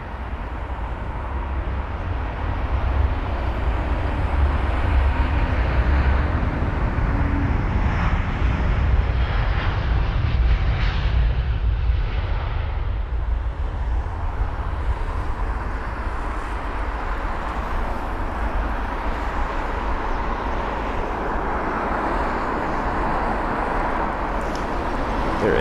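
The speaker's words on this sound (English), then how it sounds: "There it is. A bit shaky, that A350. Nothing to worry about. It's full throttle out of London Heathrow." A British Airways Airbus A350-1000 takes off at full throttle from London Heathrow, its engines producing a loud, steady roar that holds for the whole stretch and slowly shifts in tone as it climbs away.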